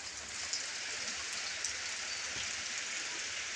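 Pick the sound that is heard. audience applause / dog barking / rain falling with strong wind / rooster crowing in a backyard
rain falling with strong wind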